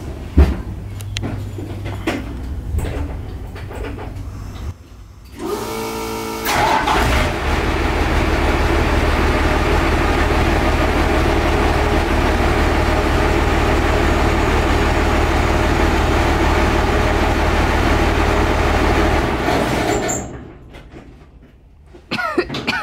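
A diesel truck engine turns over and settles into a loud, steady low rumble of idling that runs for about fifteen seconds before cutting off, heard up close after some brief handling noises.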